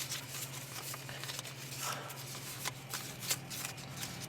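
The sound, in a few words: playing cards being handled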